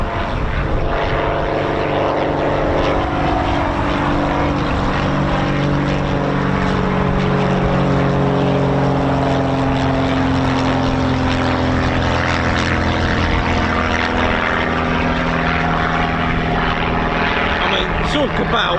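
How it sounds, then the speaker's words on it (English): A light 160-horsepower propeller aircraft roars through a short takeoff at an RAF airfield, a loud, sustained engine drone with shifting pitch close by, while people talk excitedly over it. "That is a short takeoff and a half, that one."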